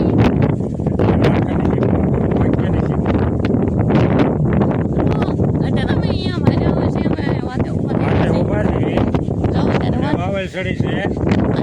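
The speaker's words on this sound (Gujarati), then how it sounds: "તો અત્યારે પવન આવ્યો છે" Loud, steady wind buffeting the microphone throughout, with rustling and voices mixed into the roar.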